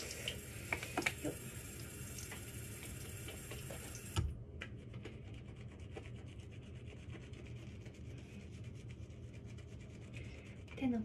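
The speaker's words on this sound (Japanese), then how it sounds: "泡立てます。" Soapy hands rub together to work up a lather, producing a quiet, steady rubbing and squelching texture; after a few seconds a background hiss drops away, and no one speaks.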